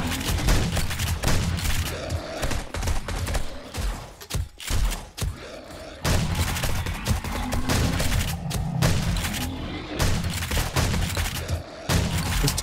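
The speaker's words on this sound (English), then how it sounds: "The turret actually worked just now." A turret in 7 Days to Die, Rebirth mod, fires dense continuous volleys during a horde night. The shots are loud and close, with brief pauses around the middle before the rapid firing resumes.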